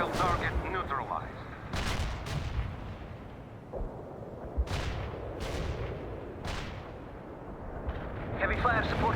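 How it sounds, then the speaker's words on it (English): An artillery barrage booms through a World in Conflict battle as a series of sharp, heavy blasts over a constant rumble of combat, with voices talking throughout. "Commencing the barrage. Artillery engage."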